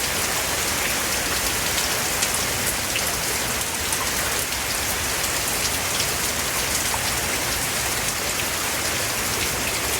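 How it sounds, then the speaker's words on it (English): Rain and wind in a stormy outdoor setting, with wind blowing high up in the trees: a dense, steady hiss of rain covering a broad, continuous rush, with no talk and no gaps. "You can hear the wind high up in the trees."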